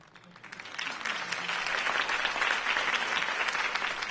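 Crowd applause following Harvey Dent's campaign speech, clapping that swells in over the first second and then holds as a dense, steady roar from many hands.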